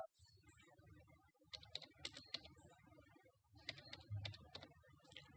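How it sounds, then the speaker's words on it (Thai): A new home Wi-Fi password is typed on a notebook keyboard, quiet close key clicks coming in two short bursts with a brief pause between them. "กดลบออกไปแล้วก็พิมพ์รหัสผ่านใหม่ได้เลยนะครับ"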